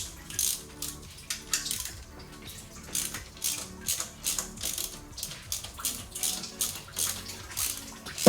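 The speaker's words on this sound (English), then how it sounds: "Ratchets, dude." A ratchet works on a G48 golf driver head during a head swap, giving about a dozen short bursts of close, crisp clicking in an uneven rhythm with no speech.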